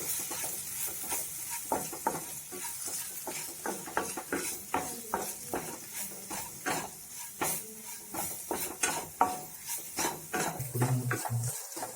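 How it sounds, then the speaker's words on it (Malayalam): Garam masala and turmeric frying in a pan for potato masala, stirred with a spoon: steady sizzle under repeated scraping strokes and light clinks, close and moderately loud, no talking. "ഇതെല്ലാം ചേർത്തതിന് ശേഷം നമുക്കിത് നന്നായിട്ടൊന്ന് ഇളക്കി കൊടുക്കാം."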